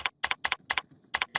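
Keys clacking on a computer keyboard, close and crisp, in short bursts of two or three quick strokes separated by brief pauses.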